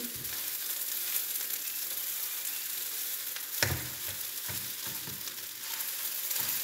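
Egg fried rice with six eggs being tossed and mixed in a pan, a steady sizzle running throughout with a few soft scraping knocks of the spatula partway through; nobody speaks.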